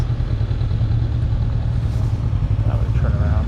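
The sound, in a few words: motorcycles passing on a road in southern Utah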